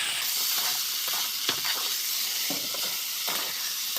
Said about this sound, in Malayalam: പാത്രത്തിൽ കുറച്ച് എണ്ണ ഒഴിച്ച് കൊടുത്ത് ഈ ഉരുളക്കിഴങ്ങിനെ ഇനി മിക്സ് ചെയ്ത് മിക്സ് ചെയ്ത് മെഴുക്കുവരട്ടിയാക്കി എടുക്കാം